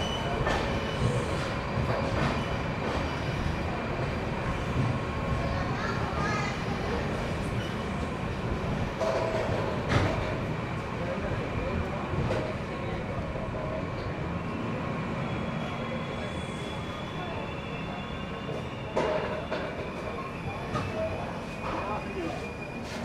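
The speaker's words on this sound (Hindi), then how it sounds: "हमारी जो ट्रेन है, जो सिलचर अगरतला एक्सप्रेस है, वो करीमगंज जंक्शन पर रुकी हुई है।" Silchar Agartala Express standing at Karimganj Junction station, a steady rumble of the idling train with faint clanks and squeals amid platform bustle, moderately loud throughout.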